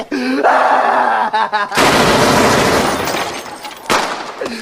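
Loud, close gunshots in a tense confrontation, with bursts of sharp reports and a harsh crackling blast, mixed with shouting voices before and between them.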